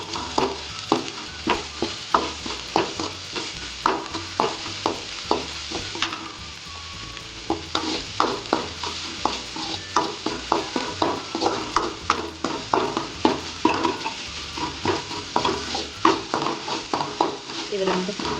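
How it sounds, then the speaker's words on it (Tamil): Ginger garlic paste sizzles and fries in a pan for a vegetable kuruma, with a steady run of rhythmic scraping stirs close by, the quiet frying hiss constant underneath and a voice talking at times. "இஞ்சி பூண்டு பேஸ்ட் போட்டுக்கலாம். போட்டு நல்லா கிண்டி விடுங்க."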